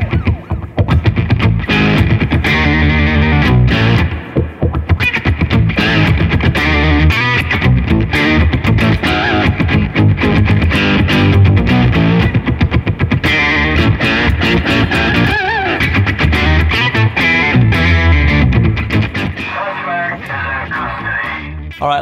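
An electric guitar runs through the Tone King Imperial MKII amp plugin on its Cop Chase Funk preset, playing a loud, continuous funky rhythm of choppy, percussive strums and riffs for the whole stretch.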